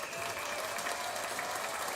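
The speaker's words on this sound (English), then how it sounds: "Golf clap." Golf clap applause at a podcast taping, a steady patter of light clapping from a small group, continuous and fairly close for about two seconds.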